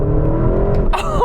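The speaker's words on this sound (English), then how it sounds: "Oh, the way this engine pulls, that is just utterly" A Porsche Cayenne Turbo GT engine pulls hard under acceleration, a loud sustained roar with rising tones and a brief shift-like change near the end, heard close from inside the car.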